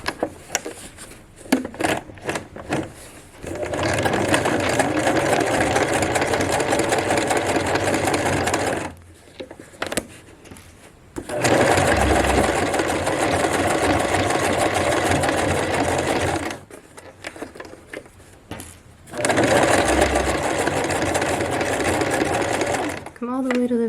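Sewing machine stitching up the waistband of a pair of pants, running loud and steady in three long bursts with short pauses between them, a voice speaking over the stitching.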